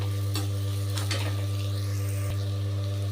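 Orange peel thokku being stirred in a pan, a soft scraping and gentle sizzle over a steady low hum, with a few brief clinks of the utensil, no voices.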